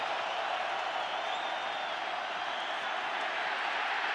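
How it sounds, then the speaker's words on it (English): Steady broadband roar of a stadium crowd at an NFL game, Bengals at Cardinals, swelling to disrupt signals on third down and six; a dense, continuous wash of noise with no distinct claps. "Crowd trying to disrupt the signals on a 3rd down and 6."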